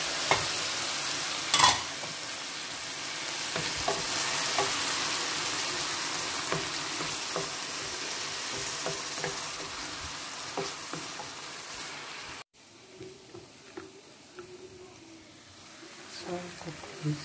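Tomatoes sizzling loudly in a pan for shakshuka while being stirred with occasional clinks, then the frying drops sharply quieter partway through as the stirring continues.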